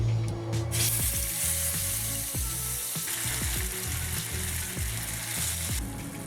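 Tomato puree frying in 3 to 4 tablespoons of hot cooking oil over medium heat, with a steady loud sizzle and crackle throughout, broken by scraping stirring strokes in the pan.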